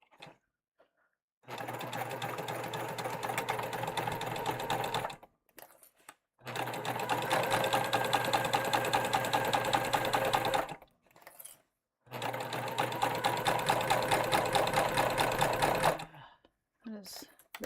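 A sewing machine stitches a tote bag in three sustained runs of rapid, steady mechanical chattering, separated by brief pauses, with soft handling sounds in the gaps.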